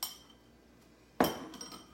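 Drained canned black beans dropped into a bowl for a Cuban beans and rice salad: one sharp clinking thud against the bowl, close by, trailing into a short soft rattle after a quiet stretch.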